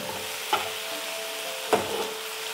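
Ginger garlic paste being stirred into tomato and onion frying for dal fry, with a constant soft sizzle underneath and two sharp scraping knocks of a spoon against the pan, close and without speech.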